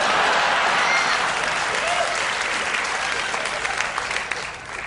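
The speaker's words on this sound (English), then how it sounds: "Who is that that's clapping, by the way?" An audience member claps at a late-night talk show taping, joined by a steady wash of crowd applause that stays loud and dense throughout and tapers off slightly at the end.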